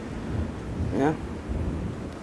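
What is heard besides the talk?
thunder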